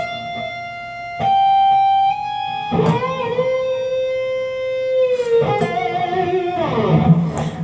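An electric guitar plays a solo, with long sustained lead notes, slides and bends ringing out clearly on their own, picked at moderate volume with a brief busier flurry near the end.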